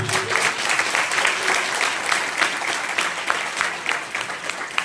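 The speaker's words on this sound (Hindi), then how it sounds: "यीशु मसीह के लिए हम ताली बजाएंगे।" A church congregation claps steadily throughout, a dense, sustained round of applause with scattered louder claps rising above the wash.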